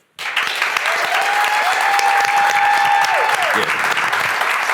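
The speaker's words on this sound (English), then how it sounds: "a big round of applause" An audience at a sports talk event bursts into loud, sustained applause that starts abruptly and holds steady, dense and close, with a brief whistle-like tone rising through the clapping.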